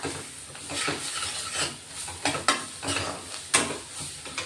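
Masala paste sizzles steadily in oil while a spoon scrapes and stirs the pan in repeated strokes, with a few sharper clinks against the metal.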